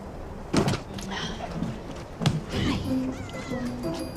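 A house cat meows a few times indoors in a quiet room. Short, soft cries come between a door knock or slide and light background movement, with no one speaking over them.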